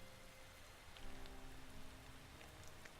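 Heavy downpour in a video game, a steady faint hiss of rain with scattered drop patter and a low background hum, no voices.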